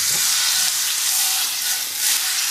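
Butter hitting a hot pan and sizzling loudly and steadily, a bright continuous hiss with slight swells, with no talk over it.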